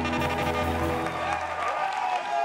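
A crowd at a fourth-anniversary party in a maquis claps amid tonal music that fades partway through, leaving the applause noisy and moderately loud.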